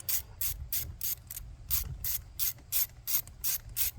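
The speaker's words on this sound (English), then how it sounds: "I'm gonna take our 10 mil, come over here, and we're just gonna remove the one bolt" A ratchet with a 10 mm socket works a bolt loose on a 2004 Volvo S60, about a dozen rapid clicking bursts in an even back-and-forth rhythm, close and clear, with no talking.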